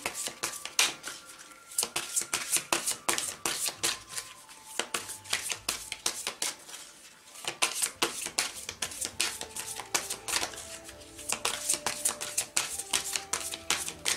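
Aromatic oracle cards are shuffled by hand for a reading: dense, rapid riffling bursts, close and crisp, repeating in several rounds with short pauses between them.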